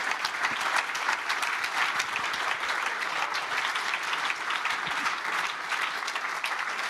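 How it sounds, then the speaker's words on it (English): A lecture-hall audience gives a panel discussion on populism a continuous round of applause, a steady wash of many hands clapping at moderate volume with no speech over it. "Let's give the panel a round of applause."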